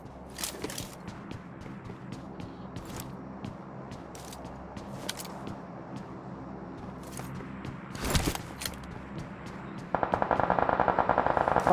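Automatic weapon fire in a three-player squad video game, with scattered sharp shots giving way to a loud, rapid sustained burst at the end, heard without talk.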